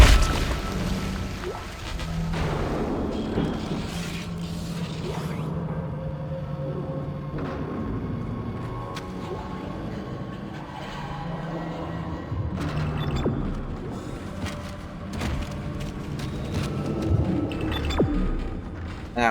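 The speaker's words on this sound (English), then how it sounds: "This is a cargo lift." A cargo lift in the horror game Dead Space moves with heavy mechanical rumbling, metallic clanks and thuds over a dense, continuous low drone, loud and close throughout with no speech.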